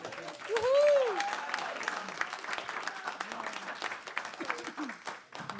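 An audience at a community pitch day applauds for students, sustained clapping with a cheer and whoops rising over it, voices calling out amid the crowd.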